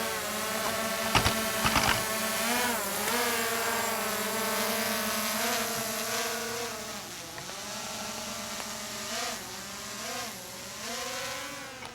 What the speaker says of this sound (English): I can bring this drone down on the spot if I want to.